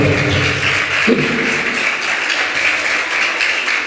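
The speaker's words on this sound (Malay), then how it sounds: "Oke, tepuk tangan untuk kita semua." A school audience of children claps steadily for a few seconds, a dense, fairly loud patter that stays even throughout, with a brief voice near the start.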